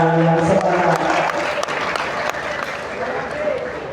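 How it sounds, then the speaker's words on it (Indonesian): An audience at an Islamic religious gathering for santri bursts into lively applause, dense and continuous, with a voice talking over it early on. "Beri tepuk tangan yang semangat."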